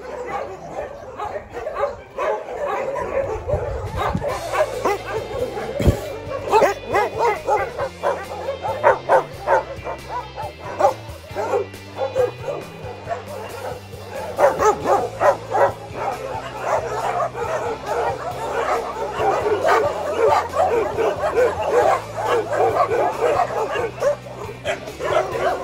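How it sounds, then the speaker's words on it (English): Many dogs at an animal shelter bark, yip and whimper in a continuous, overlapping chorus, loud and close, with some background music or tonal sound underneath. "and of course, hundreds of dogs."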